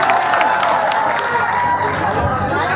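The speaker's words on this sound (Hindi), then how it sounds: "फिर से एक मरतबा अपने लिए आप लोग तालियां बजाएं," Outdoor gathering crowd applauding and cheering, a loud continuous wash of clapping mixed with voices and chatter, with a sustained tonal sound running beneath it.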